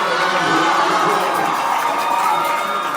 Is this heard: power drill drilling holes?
no